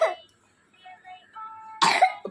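A sick young child coughs at home, a sharp cough at the start and a louder, harsher burst of coughing near the end, with a faint voiced sound between them.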